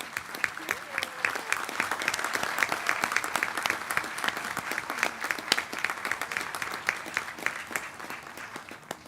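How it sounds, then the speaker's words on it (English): Sustained applause from the audience at a school district board of education meeting honoring high school students, crisp individual claps clearly audible in a moderately sized room. "If you could please stand so we can clap for you."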